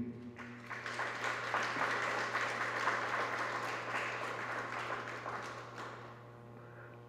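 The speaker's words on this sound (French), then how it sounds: "Nous lui disons merci par nos applaudissements" A church congregation applauds during a Sunday anniversary Mass, a broad wash of clapping heard at a moderate distance in a reverberant space. A low steady hum runs underneath, and the applause fades out near the end.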